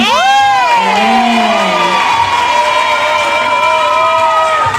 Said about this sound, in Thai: เสียงปรบมือเลยได้ไหม